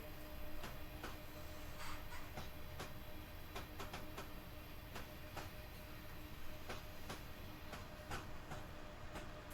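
A Union Pacific gas turbine electric train recedes along the tracks in Cheyenne: continuous rushing rumble with a rapid, uneven series of clickety-clack wheel beats, steady and moderately distant.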